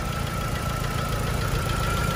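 A 1.6-litre Daewoo Lacetti engine, a small new-type ETEC 16V unit, idles steadily with an even low hum and faint ticking rhythm, close and constant, with no voices.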